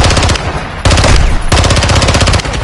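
Loud, close automatic gunfire in the video game Call of Duty: Modern Warfare II, two rapid-fire bursts separated by short pauses.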